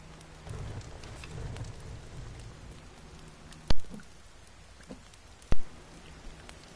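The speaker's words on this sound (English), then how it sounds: "Because it's raining and we're up north." Steady rain hisses down in the survival game The Forest, a dense constant patter with a low rumble and two sharp, loud cracks standing out above it, no voices.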